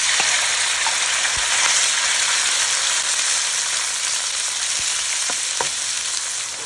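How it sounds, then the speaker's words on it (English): Diced pork sirloin fries in a mix of sesame, avocado and chili oil, giving a steady, loud close-up sizzle with a few sharp pops and spatters and no voices. "We're going to go ahead and we're going to cook it up in sesame oil, avocado oil, and a little bit of chili oil."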